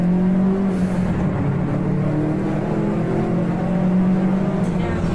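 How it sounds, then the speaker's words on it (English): Car engine revving hard under acceleration on dashcam footage, a steady loud drone with rising engine tones throughout, with a voice talking over it. "When he finishes, he decides to really give the car some gas."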